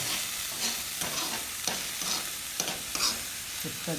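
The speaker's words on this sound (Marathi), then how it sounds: "भेंडीची भाजी असं हलवायची नाही मग अजून ती चिकट बनते" Okra sabzi (bhindi) stirred in a pan, a continuous crackling sizzle broken by repeated scraping strokes of the spoon, near and steady with no talk.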